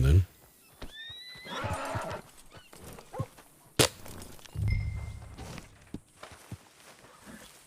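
A horse in a video game neighs and whinnies loudly, with hoof clip-clops, footsteps and other game effects around it, while someone speaks French over parts of the sound.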